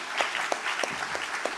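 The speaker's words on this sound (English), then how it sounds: "So give him a big applause." A conference audience applauds after opening remarks, a soft, fairly distant wash of steady clapping with a few sharper claps poking through, no talk over it.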